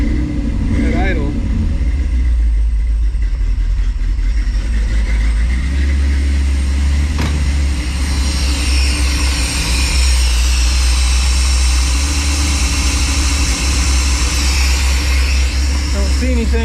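A 1957 car's V8-style engine idles steadily at close range, a continuous low rumble with a slight rise in the second half, while someone talks over it.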